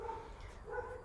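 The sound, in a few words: dogs barking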